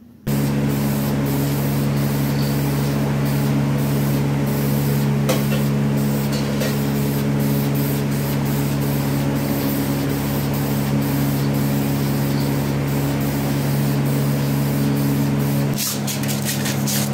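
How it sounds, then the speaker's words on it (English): Motorcycle drag pipes for an Ironhead are spray painted in one long, steady close-up hiss that runs almost unbroken for about fifteen seconds before cutting off near the end. "just basically paint them now and put the clamps on"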